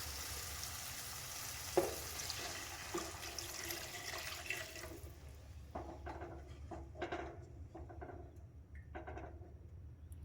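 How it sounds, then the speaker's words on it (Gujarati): Water is poured into a pan of stuffed drumstick curry on the stove, a hissing, splashing pour followed by faint sizzling and soft stirring clinks, close and without talk. "હવે આપણે પાણી એડ કરીશું"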